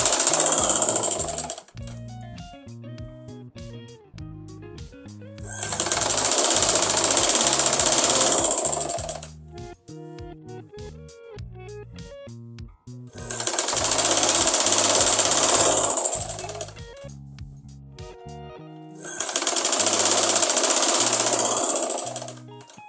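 A sewing machine runs straight seams on an Afghani salwar in loud, sustained bursts of several seconds each, separated by quieter stretches of lighter mechanical rhythm.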